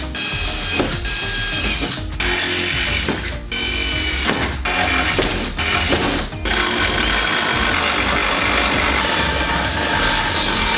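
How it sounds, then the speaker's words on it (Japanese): A power drill bores holes into the side frame of a movable work table for a small two-horsepower boat, with repeated close, loud whirring bursts broken by short pauses, with no talk. "そしたらこの両脇のフレーム側にも穴を開けていきます。"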